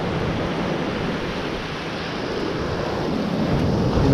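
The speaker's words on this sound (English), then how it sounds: "the waves look a lot bigger than they did the last time I was here" Ocean surf at Old Orchard Beach in Maine rolls in as a steady, loud wash of breaking waves mixed with wind rumble on the microphone, with no voices.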